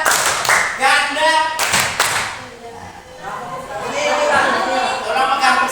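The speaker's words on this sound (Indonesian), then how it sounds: "Tepuk ganda, tepuk tunggal, ganda." A class of children claps on command during a teacher's rhythm game of double and single claps, loud near bursts of clapping separated by pauses, with an adult voice giving instructions between and over the claps.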